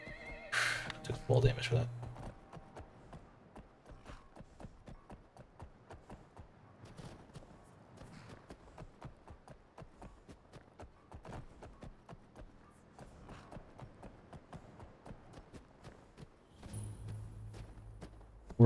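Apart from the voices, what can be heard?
horse neighing and hooves clip-clopping in Skyrim video game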